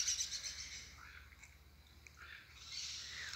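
A flock of small birds chirps and twitters continuously, high-pitched calls overlapping from a moderate distance.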